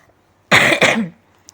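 A single harsh cough from someone with a cold, two quick bursts close to the mic, then quiet.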